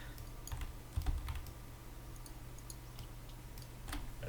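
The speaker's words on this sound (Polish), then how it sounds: "Klikasz strasznie na tej klawiaturze." Rapid, loud clicking on a computer keyboard during a Polish strategy game session (Rome II: Divide et Impera), a steady run of sharp keystrokes alone with a low hum underneath.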